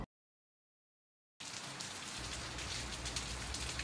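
After a short stretch of silence, rain falls on the way home on a rainy day, coming in suddenly as a dense, steady patter of drops that stays even and close to the end.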